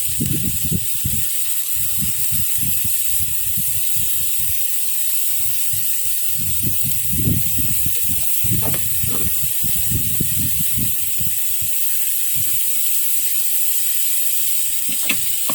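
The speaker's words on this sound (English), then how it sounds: "Ooh, sizzling." Steady hissing and crackling of food frying in a hot pan, with irregular bursts of louder sputtering throughout.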